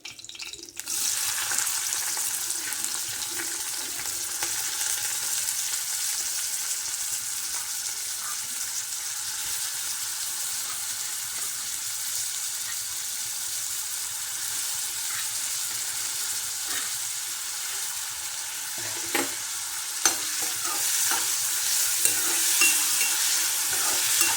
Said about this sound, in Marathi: जिरं छान तडतुडं द्यायची आणि कांदा टाकूया